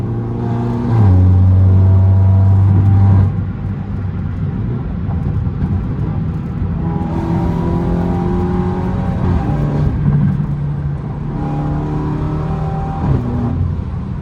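A stage 2+ tuned BMW 330i engine revs hard under throttle during a late-night drive, loud and close from inside the car, rising and falling through gear changes with a droning exhaust note and no speech.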